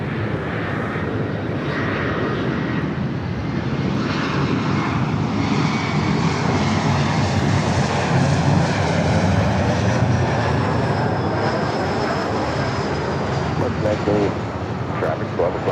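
An Embraer E-Jet airliner, a SkyWest-operated Delta Connection flight, arrives at Los Angeles International Airport with a loud, sustained jet roar and a whine that drifts slowly in pitch as it passes.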